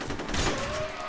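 Rapid gunfire from the first-person shooter F.E.A.R., a dense, loud burst of shots filling the whole moment with no voice heard.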